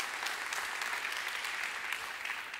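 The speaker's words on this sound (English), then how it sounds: "Come on and clap your hands." A church congregation claps hands together in dense, continuous applause, steady and energetic throughout.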